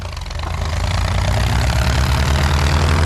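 Mahindra 265 and 575 tractor engines running side by side during an informal race, a loud, steady low diesel rumble that builds slightly and holds throughout with no talking.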